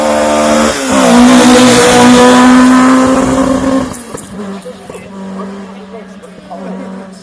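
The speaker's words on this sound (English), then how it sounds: "Right, Mark II Escort on its way now." An ex-works Ford Mark II Escort rally car accelerates hard up the Shelsley hill climb course, its engine revving loudly through rising pitch before easing off, with a commentator talking over it.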